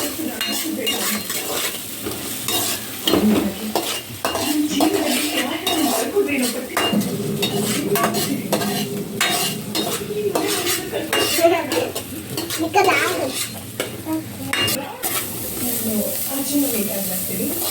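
Food stir-fried fast in heated oil in a home kitchen pan, with a utensil scraping and clattering steadily against the metal and a soft sizzle underneath, while a voice talks over the cooking.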